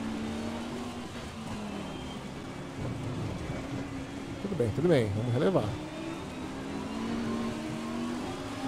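Race car engines in wet conditions in Assetto Corsa Competizione drone steadily, with a brief revving swell midway, while a person talks over the top throughout.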